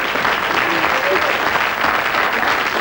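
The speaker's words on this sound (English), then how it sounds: "a big round of applause for Joe." Applause from an audience rises in a dense, continuous wash of clapping, loud and close, with no break through the short stretch.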